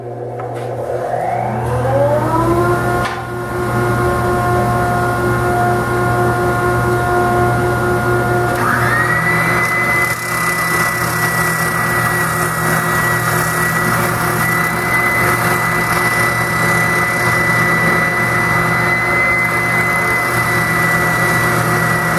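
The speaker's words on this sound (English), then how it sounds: "now to the spindle sander, oscillating spindle sander for the inside" An oscillating spindle sander whirs up to speed with a rising motor whine while shaping wooden toy blocks. It then holds a loud, steady hum that shifts to a higher pitch partway through and runs without talk.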